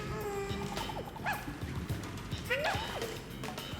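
Cartoonish dog yips and barks from the Yoshi's Woolly World video game, a few short bright calls rising over busy game music and effects.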